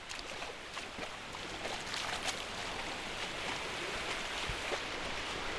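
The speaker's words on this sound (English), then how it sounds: "Tis the sound of the ocean which comes in from the Pacific" Pacific Ocean waves wash onto the beach at Orewa, New Zealand, a continuous soft broadband roar of surf, faint and steady with no voices.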